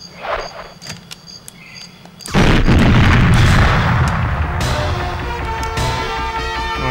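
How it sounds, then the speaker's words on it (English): A huge ammo dump explosion in GoldenEye on the N64, jungle level, bursting abruptly after quiet game ambience and rolling on as a loud, sustained rumbling roar with crackling debris over several seconds. "I'm gonna blow up the ammo dump now, guys."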